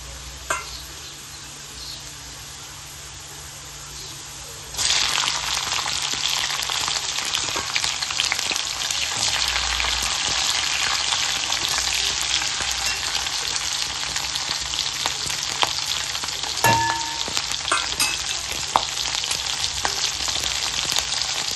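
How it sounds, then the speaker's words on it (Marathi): Green chilies fry in hot ghee in a pan, starting with a quieter hiss and jumping to a loud, steady sizzle with crackles and occasional stirring clinks for the rest of the stretch. "त्याच्यामध्ये मिरच्या फ्राय करून घेते"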